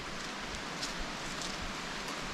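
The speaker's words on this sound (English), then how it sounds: "We've decided to brave the rain. It slacked up a little bit" Steady rain falling outdoors after a downpour has eased, a soft, even hiss with faint patters on the ground and foliage and no talking.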